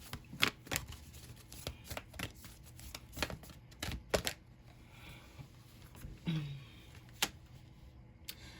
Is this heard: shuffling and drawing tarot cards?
yes